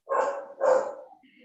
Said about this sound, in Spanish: el perro está ladrando